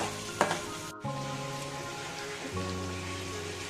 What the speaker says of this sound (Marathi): तेल गरम झालं की आपण घालूया कांदा, मिक्स करायचे,